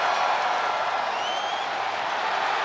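Steady roar of an arena crowd in the WWE 2K26 wrestling game, a continuous wash of cheering and applause at even volume throughout.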